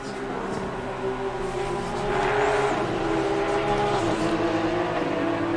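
Porsche Sprint Cup race cars lapping at the Brands Hatch circuit, a continuous loud engine drone with shifting pitch that swells about halfway through as cars pass.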